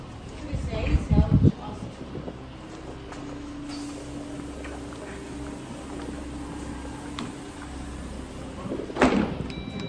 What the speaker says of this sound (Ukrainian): прибуде потяг, відкриються двері